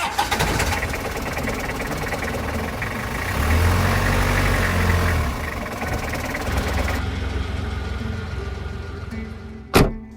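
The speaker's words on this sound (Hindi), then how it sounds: "हो गई ना गाड़ी स्टार्ट?" A car engine cranks and catches, running with a steady mid-pitched rumble at close range, then settles into an even idle; a sharp clunk near the end.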